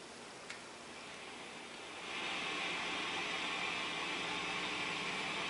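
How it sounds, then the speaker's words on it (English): Electric hum and hiss from the P90 pickups of a Gibson Les Paul, swelling louder as the gain is turned up partway through, a steady broadband buzz with no playing. "it's got P90 pickups that were invented right after World War II. They're wonderful, but they love to hum."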